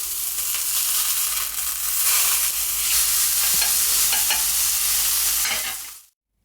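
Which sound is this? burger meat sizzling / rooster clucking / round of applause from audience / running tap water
burger meat sizzling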